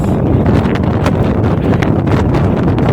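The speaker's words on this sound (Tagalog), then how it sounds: "Sobrang lakas ng hangin" Loud, continuous wind buffets the microphone with roaring gusts and rustling in Mariveles, Bataan, no voices audible.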